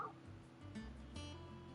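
A dog in Final Fantasy XVI whimpers and gives a short bark, fairly close and faint, over steady game ambience.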